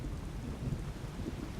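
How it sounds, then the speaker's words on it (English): Steady light rain in Skyrim with a soft, distant rumble of thunder underneath, an even wash of drizzle throughout with no talking. "it's only a light rain with a little bit of thunder in the background"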